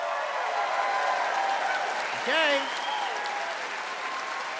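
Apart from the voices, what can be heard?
audience applause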